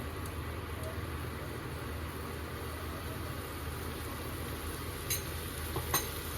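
Masala with turmeric, garam masala, chili powder and salt is stirred in a cooking pan, giving a steady low sizzle with a couple of faint scrapes of the spoon near the end.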